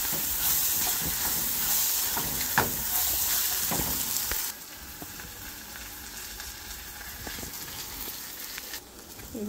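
Dal, peanuts and green chilli fry in oil on low heat with a steady crackling sizzle and occasional stirring taps. The sizzle drops quieter about halfway through and continues softly.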